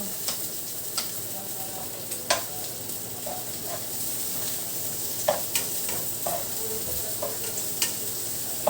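Onions frying in a pan give a steady soft sizzle, broken by scattered sharp clicks and scrapes as a utensil stirs them against the pan at irregular intervals.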